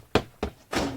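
An empty metal garbage can knocked into on a street: two hollow close thunks followed by a longer rattling clatter, with no voices.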